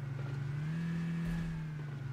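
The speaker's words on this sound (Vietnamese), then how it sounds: "Tiếng xe trước mặt này." A car engine in PUBG Mobile hums nearby with a steady mid-pitched drone that swells briefly as if revving, then settles, fairly faint with no talk over it.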